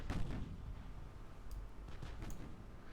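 Naval guns booming in the warship game Ultimate Admiral: Dreadnoughts, heavy low rumbling blasts rolling continuously with a few sharper cracks, moderately loud and with no voices.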